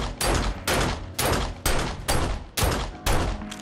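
Pistol shots fired at a zombie bear in the game 7 Days to Die: seven or eight loud, close, sharp blasts in a fairly even rhythm, each with a short decaying tail.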